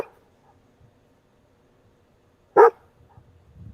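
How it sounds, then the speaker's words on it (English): A single quick, loud dog bark from a played recording breaks otherwise near silence, followed by faint low rumbling and shuffling noise. "Yeah, it's a quick bark."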